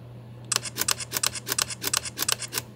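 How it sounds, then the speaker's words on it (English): A Sony A5000 shooting in speed priority continuous mode rattles off a fast, steady burst of roughly sixteen close, sharp shutter clicks in about two seconds. "That's speed priority continuous shooting."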